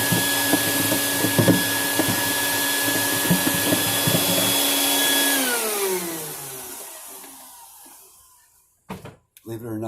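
A power sander grinds steadily against a guitar bridge to lower the action, a loud continuous whir that winds down and stops, followed by a couple of brief knocks.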